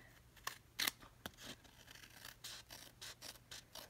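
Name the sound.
scissors trimming paper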